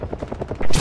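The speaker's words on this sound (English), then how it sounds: "We're being fired upon." Rapid gunfire aimed at a UH-1H Huey helicopter in DCS: a quick rattling burst of about six close shots, ending in a louder blast, with no voices.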